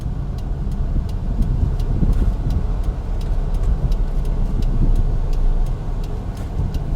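Inside a manual-transmission Mitsubishi Lancer on the move, a steady low engine and road drone fills the cabin while a faint, regular ticking runs along on top throughout, with no voices.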